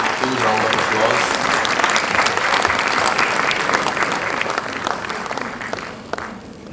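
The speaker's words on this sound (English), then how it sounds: "Kindly give a huge round of applause." Sustained audience applause at a school annual day ceremony during a bouquet presentation, dense, even clapping from a large crowd that carries on for several seconds before slowly thinning out.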